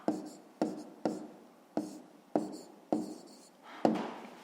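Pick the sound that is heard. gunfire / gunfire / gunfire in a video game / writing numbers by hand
writing numbers by hand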